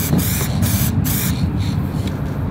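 Metallic purple Montana spray paint hisses from the can in several close, loud bursts with short gaps between them.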